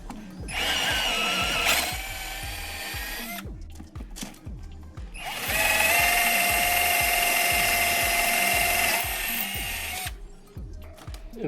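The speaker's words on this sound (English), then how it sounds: "Just got to drill these holes," A power drill bores mounting holes for an over-the-range Samsung microwave, close and loud, in two long whining bursts with a short pause between them, over a steady rhythmic ticking.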